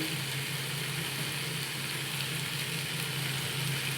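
Pumpkin, potato and chickpea curry is stir-fried in a pan, giving a constant, even sizzle with a low steady hum beneath it and no talk.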